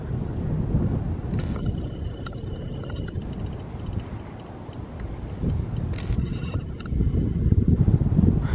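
Strong 50 mph wind during a mini blizzard, a continuous heavy roar with surging gusts that swell louder toward the end, and some rattling and clattering nearby.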